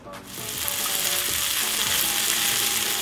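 Tomatoes sautéing in a teaspoon of olive oil in a hot pan give a steady, close, continuous sizzle with faint stirring scrapes, no voices over it.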